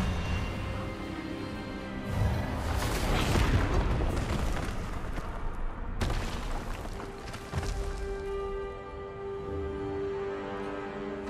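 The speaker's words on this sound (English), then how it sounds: "Expelliarmus!" Expelliarmus disarming spell cast in the Hogwarts Legacy video game: a loud, booming magical burst swells over a music-filled background, followed by a second sharp impact a few seconds later.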